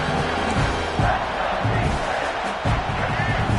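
Stadium crowd noise from an American football video game, a steady loud roar with rising swells and thumping impacts throughout, no clear talk.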